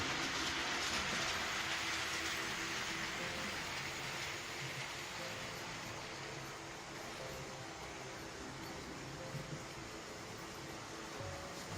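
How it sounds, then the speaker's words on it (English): A model train rumbles steadily along a long straight of track, a continuous rolling hum with faint clattering, fairly loud throughout with no talking. "watch the trains go along this long straight"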